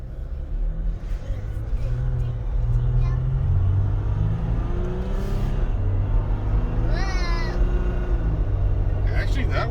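A 2021 Jeep Wrangler Unlimited Rubicon EcoDiesel accelerating with slight turbo lag, a steady, fairly loud low engine rumble that holds throughout from inside the cabin.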